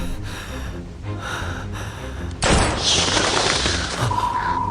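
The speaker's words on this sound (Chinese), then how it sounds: "枪声。" Sudden gunfire in a tense night escape scene near railway tracks, a sharp loud burst cutting in about halfway and followed by a few scattered reports over a lingering rumble, with no talking.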